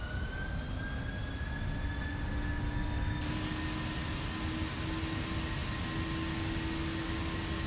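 Airliner jet engines at takeoff thrust in the Prepar3D flight simulator on a KLM departure from Amsterdam Schiphol: a loud, unbroken roar with thin high whining tones running through it, no voices.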